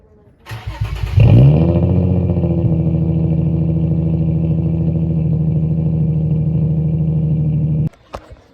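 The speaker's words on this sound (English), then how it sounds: "So I'm gonna get her started up." Infiniti G35 sedan with a VQ35HR V6 cranks briefly and catches, then settles into a steady, loud idle heard close for several seconds before shutting off.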